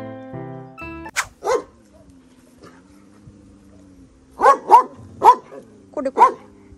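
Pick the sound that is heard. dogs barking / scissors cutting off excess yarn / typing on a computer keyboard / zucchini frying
dogs barking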